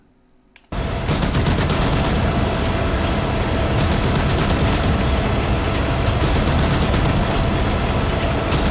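Armoured personnel carrier AI in DCS World Combined Arms firing its gun, an abrupt start into sustained rapid automatic bursts, loud and continuous with rhythmic surges, nearly uninterrupted for several seconds.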